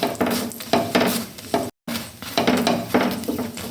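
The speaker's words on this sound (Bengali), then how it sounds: "আমি সাদা তেল দিয়ে ভাজছি।" Aloo paratha sizzling in white oil in a pan, crackling hiss broken by a few spatula stirs and scrapes in bursts, close up with a brief cut of silence midway.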